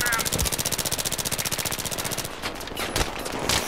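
Rapid automatic gunfire in the video game Battlefield 3, a loud continuous stream of shots for about two seconds, then scattered bursts and other game noise.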